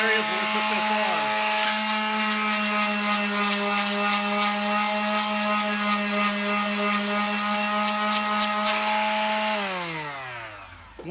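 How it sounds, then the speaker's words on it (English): A power sander runs steadily on 3D printed plastic while finishing a helmet, giving a loud sustained whine with a strong constant hum that holds for about ten seconds and then winds down. "keep the sander moving, because you don't want to burn the plastic"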